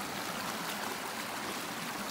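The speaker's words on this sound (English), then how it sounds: "That's some land creek down there." A creek flows somewhere below a wooded Appalachian Trail path, giving a steady, broadband rush of running water that stays even and continuous throughout, without any voices over it.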